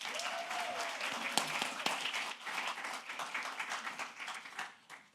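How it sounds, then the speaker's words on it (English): An audience at a youth entrepreneurship competition applauds for a student presenter with a full, dense round of clapping that holds steady and then tapers off toward the end. "Let's have a big round of applause for Rosalie."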